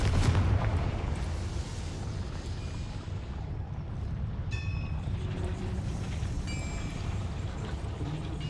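Confringo fire spell blast in the video game Hogwarts Legacy: a dense, sustained roaring rumble with a heavy low end and crackling bursts, loud throughout with no speech.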